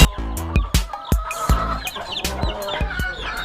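Chickens in a coop, several clucking and squawking close by in overlapping, uneven bursts, with no voices over them.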